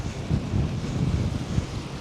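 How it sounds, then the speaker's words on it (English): Strong January wind in Da Nang buffets the microphone in loud, uneven low gusts and rumbles, with a sharper blast near the end and no voices. "it's very windy, guys"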